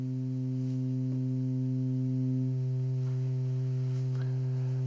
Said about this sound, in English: you would hear a sine wave, because a sine waveform is basically produced by a rotation